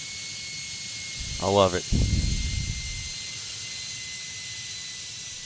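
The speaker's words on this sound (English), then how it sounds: "It's a jet aircraft. It's got that jet engine whine to it." A jet airliner in Tower! Simulator 3 gives off a steady, thin engine whine, with a hiss beneath it that runs throughout. Partway through, someone speaks briefly over it.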